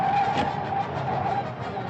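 Cartoon car chase with a steady engine drone and a sustained tire squeal running nearly two seconds, loud and close, with no talk over it.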